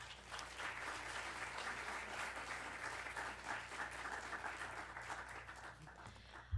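An audience applauds to welcome Professor Maureen McLane, a steady wash of many hands clapping in a hall for several seconds, moderately distant, ending with a brief bump.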